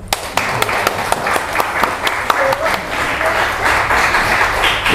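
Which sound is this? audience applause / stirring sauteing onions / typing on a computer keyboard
audience applause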